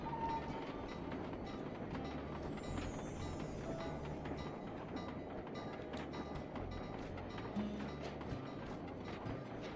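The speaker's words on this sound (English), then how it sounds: "So you can ride the train." A train rolls along the tracks in the video game Sly 2: Band of Thieves, a continuous rumbling clatter with rhythmic clicking and mechanical rattles, moderately loud and steady, no talking.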